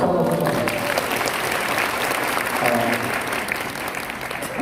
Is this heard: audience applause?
yes